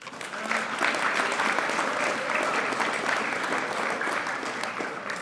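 An audience at a school awards ceremony applauds its seniors with sustained, dense clapping from many hands, steady and moderately loud, with some murmur of voices underneath.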